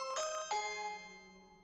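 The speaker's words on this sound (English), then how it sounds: "With a video doorbell, you'll never miss a visitor." A video doorbell sounds a clear two-tone ding-dong chime, the second note ringing out and slowly fading, alone and fairly quiet.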